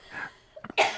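One short cough comes in a couple of quick bursts near the close, fairly close and clear, after a quiet stretch with faint breathy noise.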